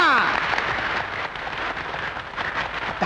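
An audience in a film applauding, with a full, loud burst of clapping that continues steadily throughout, with a faint voice in the mix.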